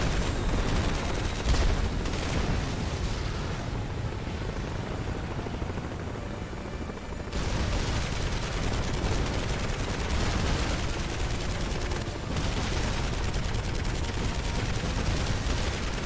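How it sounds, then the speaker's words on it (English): In the action video game Marlow Briggs and the Mask of Death, helicopter rotors drone steadily while bursts of gunfire and rapid machine-gun volleys crackle throughout, loud and continuous. "they have so many helicopters."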